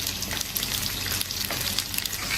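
Food sizzles and fries steadily in a hot pan, a close, continuous crackle with no talk over it.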